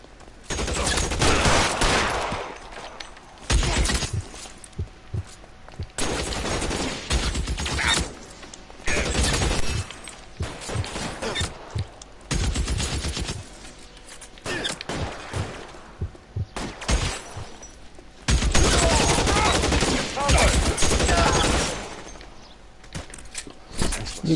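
Gunfire in the video game LA Noire comes in repeated loud bursts of rapid shots, separated by short quieter gaps, with a few voices between volleys.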